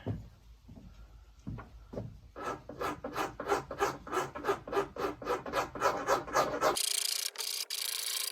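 A rasp files the rawhide backing flush with the edge of a wooden bow limb in a rapid run of rhythmic scraping strokes, close and fairly loud, after a few slower scrapes, ending in a brief hiss.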